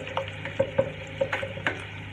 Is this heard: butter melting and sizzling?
yes